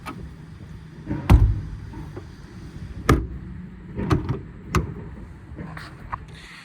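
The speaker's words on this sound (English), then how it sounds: "All these drawers slide and latch as they should" Service bed drawers on a 2019 Ford F-550 service truck with a Stellar TMAX body slide and latch shut, giving several sharp metallic clunks and clicks spaced a second or so apart over a low outdoor rumble.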